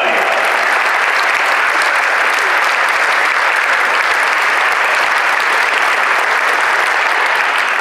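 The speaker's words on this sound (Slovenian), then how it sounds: "In lahko ploskate še naprej, zaploskate tudi vam" A concert audience claps steadily and loudly at a charity event in Novo Mesto, a dense continuous wash of many hands that fills the hall without letting up.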